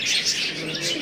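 A male Kaldom pigeon, a local breed, calls briefly and fairly close, with a soft bird sound lasting about a second.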